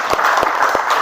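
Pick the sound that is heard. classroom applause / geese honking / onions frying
classroom applause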